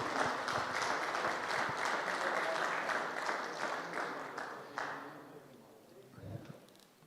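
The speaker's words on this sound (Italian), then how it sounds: "un applauso" Applause from an audience at an official ceremony of the Associazione Nazionale Cavalieri di Vittorio Veneto, steady dense clapping for several seconds that thins and fades toward the end.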